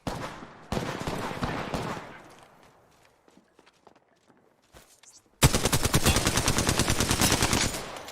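Rapid automatic gunfire in Apex Legends, loud and close: one burst, then quieter scattered shots and footsteps, then a dense sustained volley of rapid shots.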